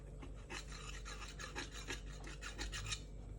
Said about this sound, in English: seal it around the edge with your fingers